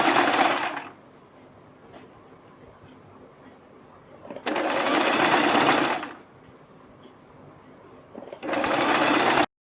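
A sewing machine stitching a net neck strip onto a kurti runs loud and close in three bursts: a short one at the start, a longer whirring run midway and another near the end, with quiet handling between.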